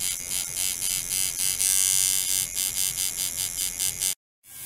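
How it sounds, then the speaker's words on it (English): A tattoo machine's needle buzzes steadily and loudly at close range for about four seconds, with a slightly pulsing, high-pitched whine, then cuts off abruptly near the end. "The sound of the needle and the tattoo."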